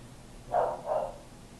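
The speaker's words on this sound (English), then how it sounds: "Sorry, that was my dog barking." Two soft, muffled dog barks in quick succession, somewhat distant, against a quiet background.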